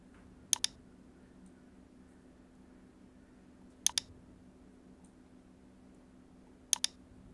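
Mouse clicks while category items are dragged to rearrange a WordPress website menu: three quick double-click pairs spaced a few seconds apart, crisp and close, over a faint steady hum with no talking.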